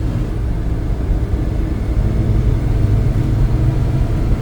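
Heavy rumbling engine drone from inside a military 6x6 truck driving in gear, a loud, steady low roar with no talk.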